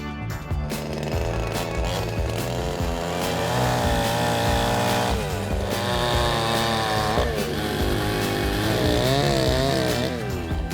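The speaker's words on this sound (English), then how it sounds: "We mark the line and trim the extra with a chainsaw." Loud, close chainsaw running continuously while trimming wooden foundation piles for a forest sauna, its engine tone steady with slight rises and dips in pitch as the blade cuts through the wood.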